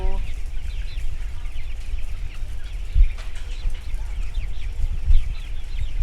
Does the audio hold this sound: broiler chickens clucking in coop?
yes